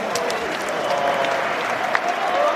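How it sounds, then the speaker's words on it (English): A large stadium crowd at Wembley gives sustained applause in tribute, a dense, even wash of clapping that fills the whole moment without any break. "Please join us in a period of applause as we remember Sir Bobby"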